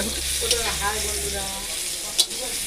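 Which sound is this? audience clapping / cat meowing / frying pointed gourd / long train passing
frying pointed gourd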